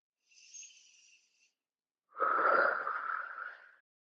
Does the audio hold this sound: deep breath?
yes